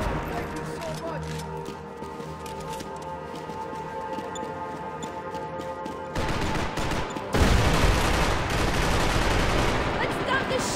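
Gunfire from a Max Payne 3 team deathmatch on Xbox 360, with dense overlapping shots building into a louder, busier stretch toward the end, mixed with game noise and talk.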